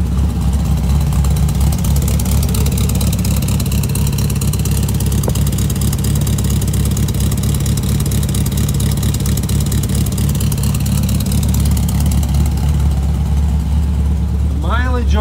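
A Merlot 356 Speedster replica's engine idles steadily and loudly for a long stretch, with a constant deep low-pitched rumble close by and a brief rising whine near the end.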